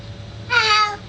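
A cat gives a single short meow, clear and close, rising out of quiet room tone about halfway through and lasting roughly half a second.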